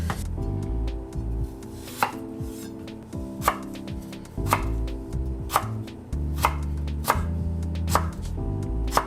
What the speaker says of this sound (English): I diced it into small cubes